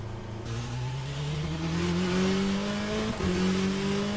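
A Corvette race car in the Le Mans Ultimate racing game revs with a rising, droning engine note and a brief shift-like dip near the end, loud and continuous with no talking.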